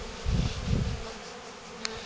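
Honeybee from a small swarm buzzing close around a beekeeper's head near a Layens hive, a loud nearby drone that swells and fades as it circles.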